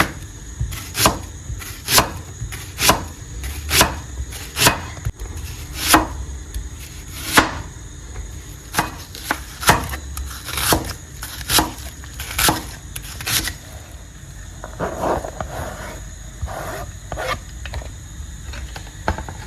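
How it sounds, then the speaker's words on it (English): Sharp knife chopping onions on a cutting board in a steady run of distinct, fairly loud taps, with a softer, quicker stretch of cutting near the end. "Go ahead and chop our onions and bell pepper and the garlic."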